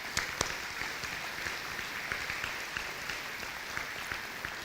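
Audience applause at an elementary school dedication and ribbon-cutting ceremony, a steady wash of many hands clapping heard from some distance, fairly faint with a few sharper claps standing out.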